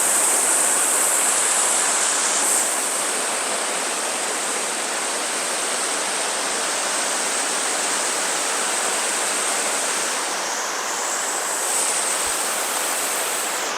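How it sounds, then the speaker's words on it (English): Giant Spring's water pours out of the ground in a steady, loud, close rushing wash, like a small waterfall, continuous throughout with no voices. "this wonderful spring water coming out at 54 degrees"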